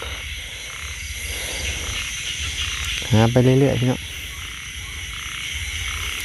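Frogs croak at night in a wet field during a frog hunt after rain, a steady chorus over an insect hum, while a voice speaks briefly over them.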